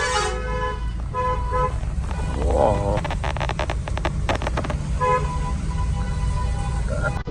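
Road traffic with car horns, several sharp toots and longer honks rising over a steady hum of engines, while a person speaks briefly.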